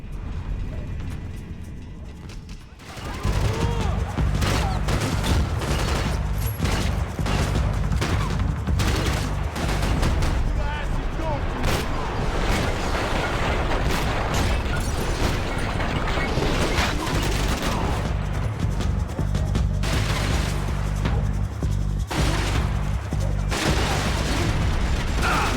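Shotgun blasts and gunfire ring out in Max Payne 3, a dense run of sharp, loud cracks and booms stacked over a busy mechanical clatter after a quieter opening few seconds.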